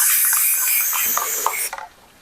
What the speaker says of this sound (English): So I'm going to get my spray glue